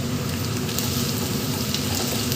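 Garlic and a bay leaf fry in hot oil in a pan, giving a steady, dense sizzle that holds without a break.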